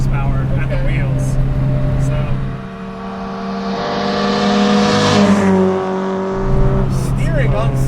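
A modified Datsun 510 wagon's engine hums and revs while driving, a steady drone that rises as it accelerates and shifts, heard from inside the car under someone talking throughout.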